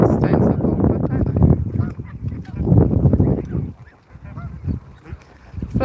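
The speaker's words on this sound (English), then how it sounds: "here come the geese" Several domestic geese honk loudly and close by in overlapping bursts, with a brief quieter stretch before the honking resumes.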